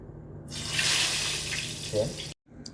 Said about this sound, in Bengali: তেলটা গরম হয়ে আসছে আমি এখন তেলে বেগুন ছেড়ে দেবো